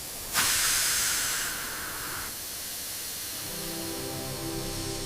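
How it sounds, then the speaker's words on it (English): A restored, long-rusted Thomas-style steam locomotive releases a sudden loud burst of hissing steam that holds, drops, then fades into a lower rumbling mechanical hum. "We finally got her back to full steam."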